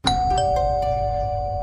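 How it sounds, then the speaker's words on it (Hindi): A doorbell chimes as a sound effect in a Hindi horror story, a loud two-tone ding-dong with a sustained ringing tail, heard alone. "फिर उसके बाद दरवाजे की घंटी से मेरी आँख खुली"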